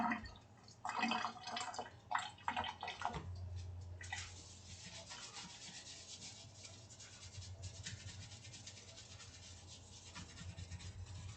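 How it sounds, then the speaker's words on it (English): Running water rinsing dishes and utensils during kitchen cleanup after baking, steady low splashing and trickling with a few clinks and rubbing sounds, fairly quiet and close, no voices. "And we rinse."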